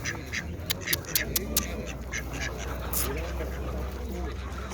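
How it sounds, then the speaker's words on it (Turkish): Wild ducks quack repeatedly in a noisy outdoor setting, several sharp calls clustered early, with a steady low hum underneath. "Arkadaşlar yaban ördek."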